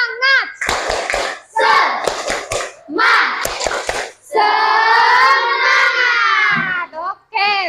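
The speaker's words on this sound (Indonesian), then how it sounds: "Sekali lagi, tepuk semangat." Schoolchildren in a classroom clap a rhythmic cheer pattern together, sharp bursts of hand claps in groups, then a long shouted chant from the class.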